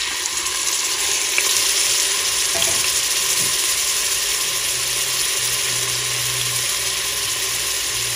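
Onion frying in hot oil in a Cookeo multicooker, a steady, even sizzle that carries on without a break, close and fairly loud, with no talking.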